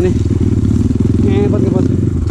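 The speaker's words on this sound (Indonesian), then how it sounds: "Motor 250cc ini, aduh, ngepot teman-teman, bener tenaganya ini" A 250cc motorcycle engine roars loud and close on a dirt trail, a steady throbbing growl with rapid pulsing, while a rider talks over it.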